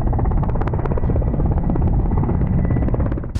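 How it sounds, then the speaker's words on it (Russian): A governor's helicopter flying over grain fields in Kurganinsky district before landing, its loud, steady rotor chop thudding close and continuous with no voices. "Пролетев над зерновыми просторами, губернаторский вертолет приземляется в поле Курганинского района."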